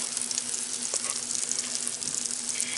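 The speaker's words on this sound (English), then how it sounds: "Listen to it sizzle." Cornmeal batter sizzles and crackles in hot oil inside a Power Pressure Cooker XL, a dense, even frying hiss heard up close without any voices.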